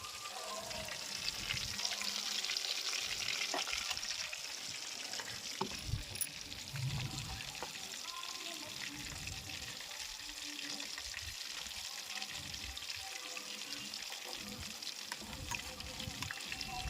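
Chicken wings deep-fry in oil with a steady, bubbling hiss that continues throughout, while faint voices and kitchen clatter come and go underneath.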